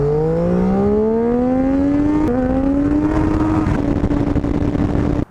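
A Triumph Street Triple motorcycle engine revs loud and close, its pitch climbing steadily through a long continuous pull with a brief hitch midway, then holding a high steady note before cutting off abruptly.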